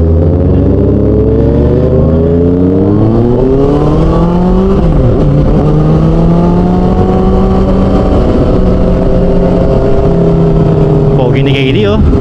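A group of motorcycles, including a Kawasaki ZX6R, rev and run steadily nearby in a loud continuous engine drone with rising and falling pitch, with people talking over it.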